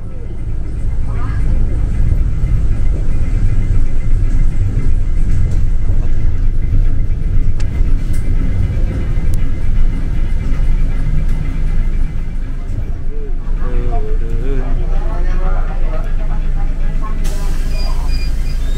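Riding aboard a Transmetro Dewata bus on the road in Bali, with a steady engine rumble and road noise running throughout and loud speech over it for much of the ride.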